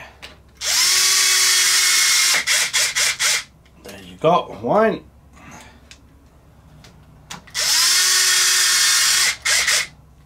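A power drill drives screws into the front splitter of a crashed Traxxas XO1 RC car, whirring in two steady bursts a few seconds apart. Between the bursts come short clicks, handling noises and someone speaking.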